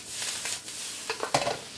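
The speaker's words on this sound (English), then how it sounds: "You wanna hear that sort of sizzle immediately" Soy sauce hitting a hot pan of chorizo and corn fried rice, a faint short sizzle with stirring clatter, growing briefly louder near the end.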